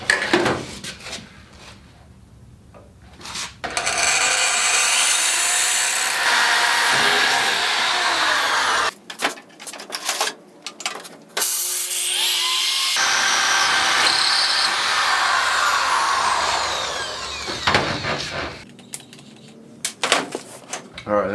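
A power drill bores out rivets on a Husky tool chest drawer during a drawer slide repair, with loud sustained whining bursts that cut off and restart several times and short quiet gaps between them.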